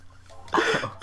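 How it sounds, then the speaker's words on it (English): A single close, abrupt throat clear or short cough from someone commentating on Mario Kart Wii. A quiet pause comes before it, and a second harsh burst starts just as it ends. "Let me clear my throat."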